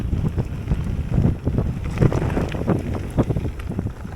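Wind buffeting the microphone on a cold day while riding a mountain bike down a flowy red-grade trail at Tarland Trails in Scotland, loud continuous rumbling gusts up close with tyre and trail noise mixed in.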